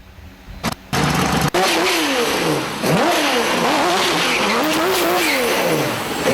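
A tuned RWB Porsche engine revs hard toward its 8,500 RPM redline. The note climbs and drops in repeated loud, close sweeps after a brief start, with no talking.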